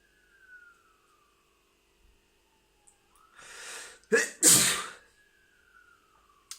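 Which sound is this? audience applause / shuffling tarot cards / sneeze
sneeze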